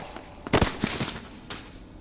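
Full-auto gunfire in a video game, a short burst of several loud rapid shots followed by a couple of fainter pops fading off.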